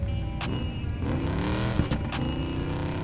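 Car engine revving in the Need for Speed Payback racing game, a tuned drift car, rising and falling through several throttle blips, loud and steady across the whole stretch with no voices over it.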